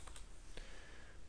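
Computer keyboard typing while entering an organization name into a search field, a few quick clicks near the start and one more keystroke a moment later, close and fairly quiet with no talking.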